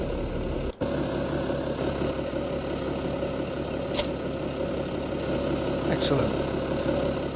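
A vehicle engine idles in neutral in a farming game, a steady mid-pitched hum with a constant low rumble that holds even throughout, while someone briefly speaks over it.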